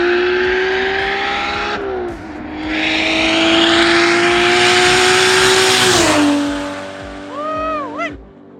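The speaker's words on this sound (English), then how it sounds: "every time that I hear the car run, it just reminds me why I'm doing it. It sounds so good." A turbocharged BMW E36 with an M52 engine runs loud and close, holding a steady strong drone before dipping, revving up again and settling, with a few quick throttle blips near the end.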